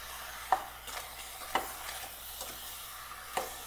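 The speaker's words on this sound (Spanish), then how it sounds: "y voy a mezclar" Cherries with lemon juice and a pinch of salt are stirred in a pot for a Black Forest cake filling. A spoon scrapes softly at a few spaced moments over a faint, low simmering hiss.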